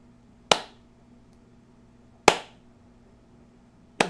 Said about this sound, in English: So you can see all the peaks from the claps that I just did.